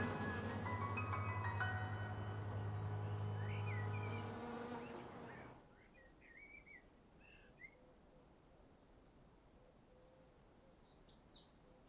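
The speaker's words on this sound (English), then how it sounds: "your hand on a beehive and you hear their hum" Honeybees hum at a beehive in a garden, a loud, steady, close buzzing drone that fades after about five seconds, leaving quieter outdoor air with scattered bird chirps.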